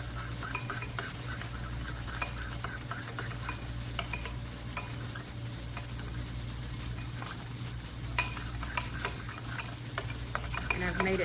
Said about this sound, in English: my burgers are cooking on one side